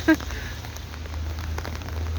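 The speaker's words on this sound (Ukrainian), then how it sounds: "Дощ іде у нас." Rain falling outdoors on a wet day, a steady soft patter and hiss throughout with a brief knock at the start.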